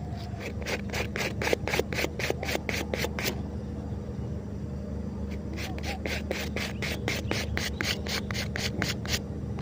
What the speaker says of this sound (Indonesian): ngamplas lurus. Kita amplas lurus saja.